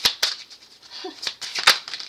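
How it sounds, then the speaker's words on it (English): Tarot cards being shuffled by hand, sharp papery snaps and riffles in irregular bursts with quiet gaps, close and moderately loud. "you see how these cards have been shuffling for the last 80 minutes"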